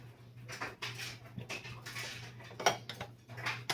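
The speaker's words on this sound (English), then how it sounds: "I'm going to go ahead and put the lid on there" A lid is set onto a slow cooker of chili, giving a few close clinks and scrapes of cookware against a steady background hum, with no speech.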